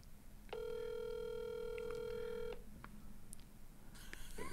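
A telephone call being placed: a steady electronic tone holds for about two seconds, followed by a few short faint blips, over a low background hiss.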